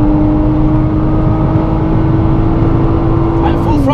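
A Nissan GT-R on Dunlop tyres accelerating at full throttle around a race track, its engine droning steadily and loud from inside the cabin, with a rising tone near the end.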